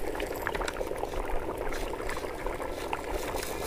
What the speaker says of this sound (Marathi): हे सगळं पाणी टाकणार आता आणि त्यात मिक्स करणार.